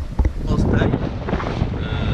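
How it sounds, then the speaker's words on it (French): Strong 15-knot wind at sea buffets the microphone on a sailboat arriving at an anchorage, a low, rumbling roar, steady and close, with hints of water and motion beneath it. "on se fait cueillir par 15 nœuds de vent en arrivant au mouillage"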